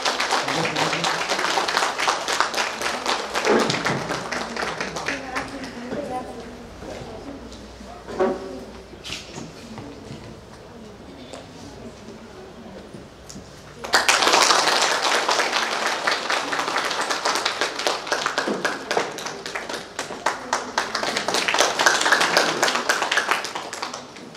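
An audience at a cooperative's annual general meeting applauds the chief guest's arrival, with loud sustained clapping that fades into a quieter stretch with some talk before a second strong burst of applause.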